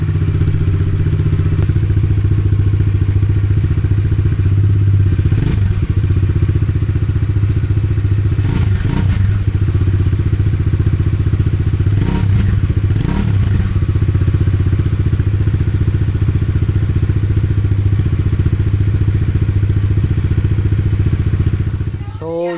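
A Kawasaki Bajaj Dominar 400 UG version 2 motorcycle runs steadily at idle, its exhaust giving a loud, continuous low rumble with a few brief revs and clattery thumps along the way, heard up close and alone.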